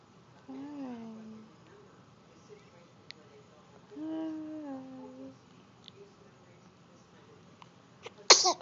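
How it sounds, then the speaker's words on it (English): A dog sneezes three times in a row, close and fairly soft, spaced a few seconds apart with quiet gaps between, followed by a brief louder rustle at the end. "Three sneezes. We got proof."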